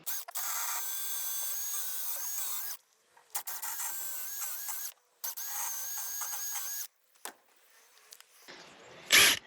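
Cordless screwdriver driving screws into wood, three bursts of high whirring motor a few seconds each separated by silence, close and loud, followed by a brief rough scrape.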